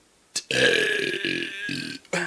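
One long, loud, croaking burp rolls out close to the mic, lasting over a second before trailing off into a short extra belch.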